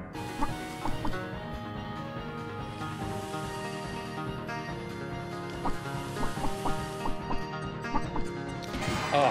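Chickens cluck in the video game Chicku, short repeated clucks scattered over a dense bed of game music and effects, moderately loud throughout.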